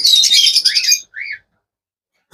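Big Alexandrine parrot chicks give a loud, harsh burst of close squawking chirps lasting about a second, then a shorter, fainter call, followed by silence.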